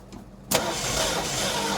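A 1968 Ford Thunderbird with its Thunderjet 429 engine, sitting for about 40 years, cranks over: a faint sputter, then a sudden loud catch that roars into a rough, steady engine sound, nearly backfiring.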